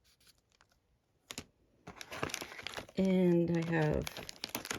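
Easter parcel wrapping crinkles and rustles as gifts are unpacked one-handed, with a louder burst of crumpling partway through, while someone talks over it and tones sound briefly.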